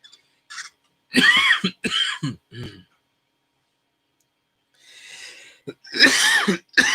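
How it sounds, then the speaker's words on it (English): A few loud, close coughs and throat-clearing bursts in quick clusters, separated by short silences. "Excuse the coughing."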